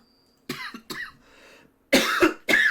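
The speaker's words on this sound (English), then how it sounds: "desperately coughing up, trying to clear their throat" A voice performs a fictional town mayor's fit of rough coughing and throat clearing: a series of several harsh, close bursts with short pauses, ending in two loud hacking coughs.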